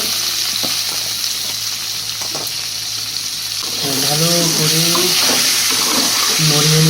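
Tomato sizzles as it is stirred into a rohu fish curry with potatoes in a hot pan, a steady loud frying hiss with soft stirring scrapes, and a voice talks over the latter half.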